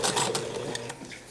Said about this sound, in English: I'm going to back tack at this point. Back tacking is 2 directions, about 3 or 4 stitches back, and then the same forward.